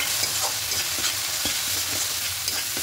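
Ground cumin, turmeric and chili powder sizzle steadily in hot oil with green chilies while a spoon stirs and scrapes the pan, cooking a spiced goat liver and stomach curry. The frying is close and continuous.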